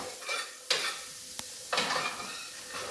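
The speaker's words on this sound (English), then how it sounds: "So we're gonna let that saute until it gets translucent." Chopped onions sautéing in a skillet for a spicy sausage pasta, giving a soft, steady sizzle with a few brief scrapes and stirs of a utensil against the pan, close by and without talk.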